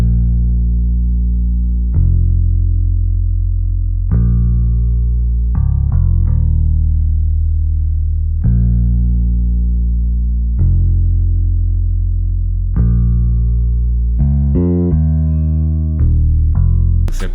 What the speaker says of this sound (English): love this bass called Ample Bass P2 Lite.